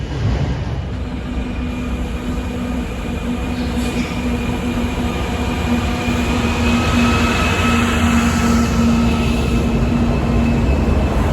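A train rumbles past steadily and loudly for the whole stretch, with a low sustained drone and rolling clatter, no voices.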